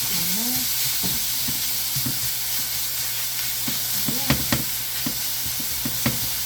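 Garlic-and-soy seasoned beef stir-frying in a pan, a steady close sizzle with scattered clacks and scrapes of a utensil stirring the meat.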